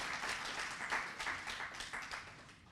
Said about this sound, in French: Je vous demande de l'applaudir très fort avant de continuer.